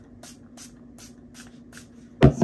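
A sunscreen spray bottle lets out a short, loud burst of hissing spray near the end, after a stretch of quieter rustling and handling sounds.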